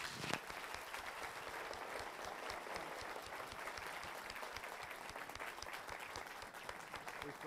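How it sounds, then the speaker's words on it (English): A large church audience gives Bishop Katharine a standing ovation, sustained dense applause with a sharp burst at the start, steady and even throughout, heard from a distance and fairly faint. "let's give her a warm round of applause"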